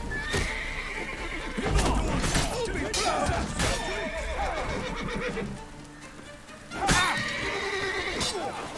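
A horse in The Witcher 3 whinnies loudly and repeatedly amid hoof clip-clops, clashing blows and other game combat noise, with a player's voice talking intermittently over the action.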